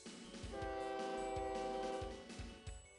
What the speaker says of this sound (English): Now we have 2 trains successfully running in this rack.